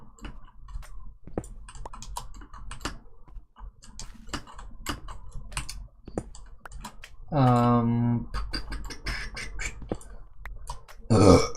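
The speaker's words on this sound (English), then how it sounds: "another burp" A single deep, drawn-out burp rises briefly and loudly out of a stretch of scattered light clicks and tapping, with soft talk around it.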